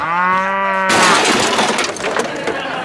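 A cow that escaped a slaughterhouse onto a New York college campus lets out a loud, drawn-out moo up close, cut off abruptly by a burst of crashing, clattering noise.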